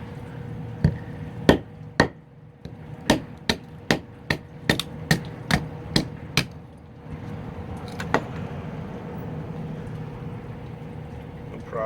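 A Mora 511 knife batoned through poplar wood, about a dozen sharp, evenly spaced knocks of the striking baton ringing out close and loud, then a quieter scrape and a single softer tap near the end.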